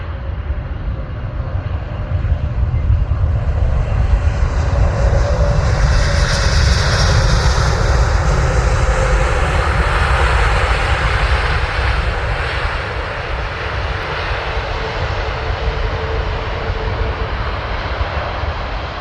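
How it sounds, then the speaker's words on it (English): A Delta Airbus A330neo arriving from Seattle lands at Amsterdam Schiphol on a sunny day, its jet engines a loud, continuous broadband roar that swells and then slowly eases. "Delta A330 Neo coming from Seattle."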